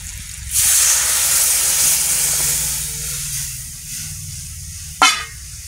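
Coconut milk poured into a hot pan of browned garlic, a loud sudden sizzling hiss that swells and slowly fades over a few seconds, followed near the end by a short sharp clatter.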